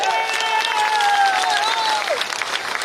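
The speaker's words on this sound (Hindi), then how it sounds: "एक बार बिंद क्षेत्र के लिए जोरदार तालियां बजा के" An audience at a Hindi-language gathering claps loudly for the Bind region, producing a dense, even wash of applause with a high shout or whistle gliding over it before it trails off.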